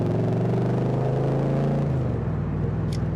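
A Chevy V8 powering a 2005 Pilgrim Sumo Cobra Mk3 replica built on Sierra Cosworth running gear idles close by, with a deep, steady rumble that holds throughout with no revving.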